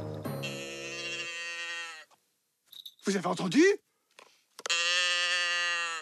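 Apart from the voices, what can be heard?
cow mooing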